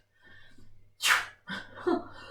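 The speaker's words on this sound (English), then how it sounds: "It's making me sneeze." A single sharp sneeze bursts out after a soft intake of breath, followed by a couple of breathy exhalations.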